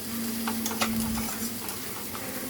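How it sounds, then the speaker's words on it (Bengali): Chopped onion, ginger and garlic frying in a little oil in a home kitchen, a steady sizzle with scattered stirring clicks and a faint tonal hum underneath, fairly close. "একটু তেল দিয়ে আমি ওই মানে সমস্ত যে চপড আদা পেঁয়াজ রসুনগুলো আছে ওটা একটু ভাজা ভাজা করে নিচ্ছি"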